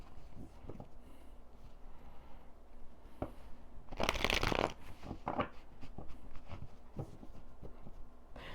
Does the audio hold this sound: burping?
no